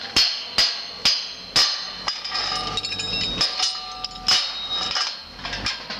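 A hammer tapping a brand-new metal clamp tight: sharp ringing metallic strikes, four evenly spaced at first, then a faster irregular run of lighter taps and a few final firm hits, close and clear with no talk.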